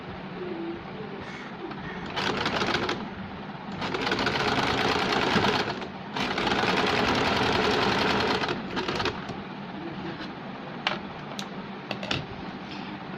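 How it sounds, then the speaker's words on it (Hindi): A sewing machine stitches the two fabric layers of a double layer top, running in several steady bursts of whirring with short pauses and quieter gaps between them, close and clear with no talking. "हमने इसे सिलाई लगाई।"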